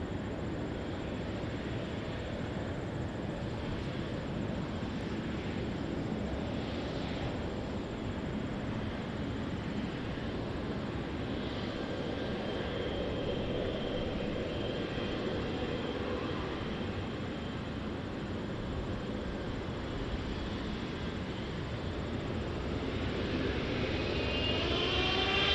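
Jet airplanes take off at Montréal-Trudeau Airport, a steady, far-off broadband roar that holds for the whole stretch and swells slightly near the end.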